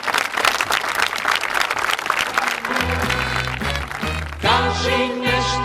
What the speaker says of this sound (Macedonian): Ако може еден аплауз за нивното дело.